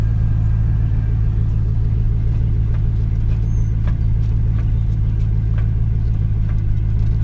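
A 5-speed Chevrolet Silverado extended cab truck idling steadily, a low, even engine rumble heard close with light ticks and rattles on top.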